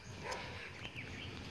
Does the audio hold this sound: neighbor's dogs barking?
yes